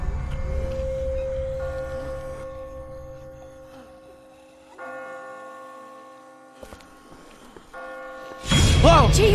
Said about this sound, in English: I just got spooked by those bells